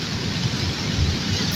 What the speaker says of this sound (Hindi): बारिश भी बहुत तेज़ है और बारिश के साथ साथ हवा बहुत तेज़ है